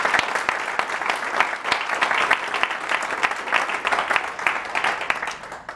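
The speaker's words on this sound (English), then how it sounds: "do a quick round of applause for Jeffrey." Applause rises from the audience after a talk on digital innovation in energy: crisp individual claps stand out over a continuous patter, fairly close and steady throughout.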